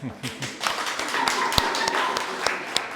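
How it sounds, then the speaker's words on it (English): A small audience at an artist talk claps briefly, sharp scattered hand claps rather than full applause, with a voice speaking over them. "give them a round of applause"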